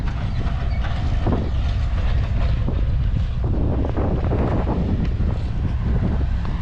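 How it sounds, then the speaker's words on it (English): Strong wind roars steadily at an outdoor construction site where a retaining wall is being built, loud broadband buffeting against the microphone with constant gusts and rumble throughout, no voices. "the wind blowing 900 miles an hour out here"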